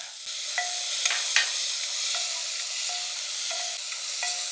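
Chopped tomato going into a pan of sautéing onions, with a steady close sizzle and a few light stirring clinks and scrapes on top, no voices.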